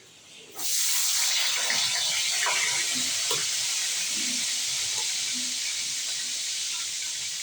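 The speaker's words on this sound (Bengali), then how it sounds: "তেলের মধ্যে পেঁয়াজটা দিয়ে দিই।" Chopped onions hitting hot oil in a pan burst into a loud, steady sizzle and hiss that starts abruptly and carries on unbroken, close up, with no talk over it.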